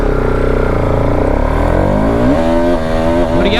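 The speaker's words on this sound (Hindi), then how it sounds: "और ये आपने देखा व्हील स्पिन" A Bajaj Pulsar RS 200 BS6 motorcycle revs hard with wheel spin, its engine droning loudly and climbing steadily in pitch as it accelerates.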